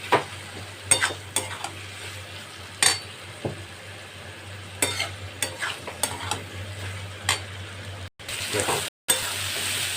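Soybean masala frying in a pan while a spatula stirs it, with a steady sizzle and irregular sharp scrapes and knocks against the pan, briefly cut off near the end.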